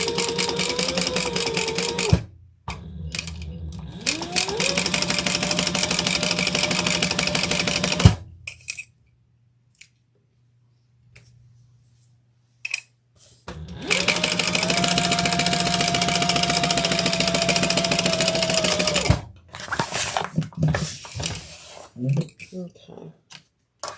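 A home sewing machine stitches a fabric beach tote in two long, steady whirring runs separated by pauses, with clicks and a soft voice speaking in the gaps.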